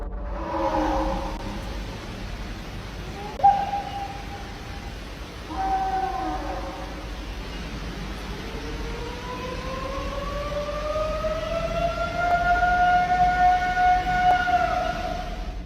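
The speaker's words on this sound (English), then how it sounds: "It sounds mostly like a primate would, but then there are barks and yips and hoots thrown in there" Purported Bigfoot call recorded outdoors: a loud, long rising and falling howl-like tonal cry with a few sharp barks and yips before it, building and holding near the end.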